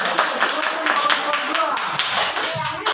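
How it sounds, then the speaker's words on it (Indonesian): A classroom of children clapping hands in a rapid, steady rhythm, loud and close, with voices audible alongside. "Tepuk tangan dulu."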